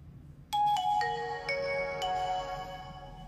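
A Nokia 8800 mobile phone plays its startup tone, a clear chime of several bright, bell-like notes that start abruptly and ring out in a descending sequence over quiet background noise.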